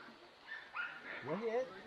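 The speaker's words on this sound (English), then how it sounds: "That was small dog." A small dog gives a few faint, brief yips and whimpering barks in the distance on a nature trail to a waterfall in Trinidad, with people talking quietly nearby.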